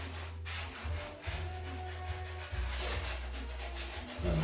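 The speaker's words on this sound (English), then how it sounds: "You can vacuum them up and sponge it." A sponge scrubs grout across bathroom tiles during a renovation, giving a steady, close, gritty rubbing that continues for several seconds over a low background hum.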